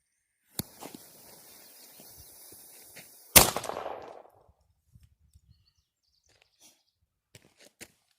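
A miniature cannon fires a single sharp, loud blast outdoors that decays into a short rumbling echo, preceded by a faint click and a low hiss, followed by a few scattered small knocks.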